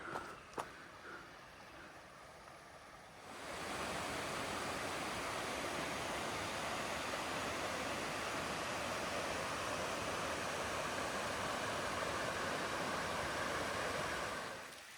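Rain sweeps in during a bush walk in Serpentine National Park, with a quiet start giving way to a dense, steady hiss of falling rain that holds evenly for over ten seconds.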